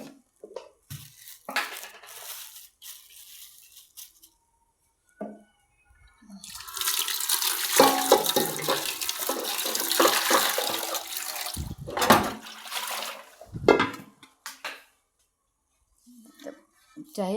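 Kitchen tap water runs steadily for several seconds into a sink while dishes and chicken are washed, with clinks of pots and utensils before and after, close by.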